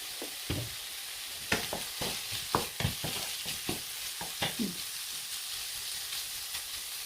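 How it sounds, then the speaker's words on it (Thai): Shrimp fry in a little oil in a pan, giving a steady close sizzle broken by frequent sharp crackles and pops, with stirring sounds and no talk. "ลวกกุ้งก่อนนะจ๊ะใส่น้ำมันอีกน้อยนึง"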